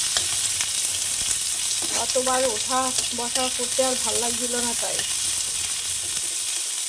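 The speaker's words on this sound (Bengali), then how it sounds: "পেঁয়াজটা একটু হালকা ভাজা হয়ে যাক" Onions fry lightly in a pan in a home kitchen with a steady, bright sizzle throughout, while someone speaks briefly over it in the middle.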